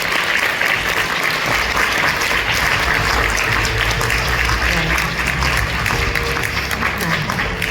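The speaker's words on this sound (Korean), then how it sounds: "알찬 시간 마련해주신 우리 궤도님께 다시 한번 따뜻한 박수 부탁드립니다" Sustained, loud applause from a seated audience at the close of a science-and-art lecture at a festival opening ceremony, steady clapping filling the whole span with crowd murmur beneath.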